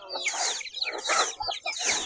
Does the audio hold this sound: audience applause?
no